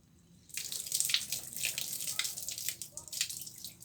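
Young child being bathed and playing in the water, a rush of splashing and pouring that starts suddenly and continues in uneven surges, close by, with voices heard faintly underneath.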